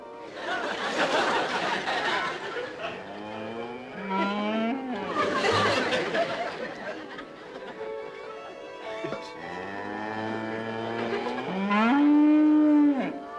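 A voice imitates a cow's moo in a Dennis the Menace sitcom scene, making several long, drawn-out, wavering moos that are loud and close, with brief pauses between them.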